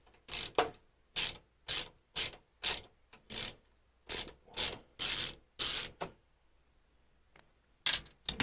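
A thumb screw on the back of a HYTE Y70 PC case is loosened by hand, giving a string of close, rhythmic scraping clicks in short bursts with brief pauses between them.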